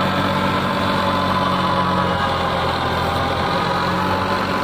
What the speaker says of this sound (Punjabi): ਵਧੀਆ ਚੱਲਦਾ ਟਰੈਕਟਰ